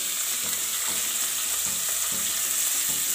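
Finely chopped onions sauté in a hot pan with a steady, close crackling sizzle and occasional stirring scrapes throughout, with no talking.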